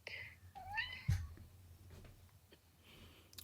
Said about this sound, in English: Oh, I can hear your cat.